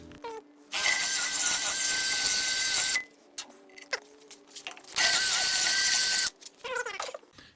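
A power drill bores a hole for a Jeep light mount in two sustained high-pitched whirring bursts, close and loud, separated by clicks and handling noises.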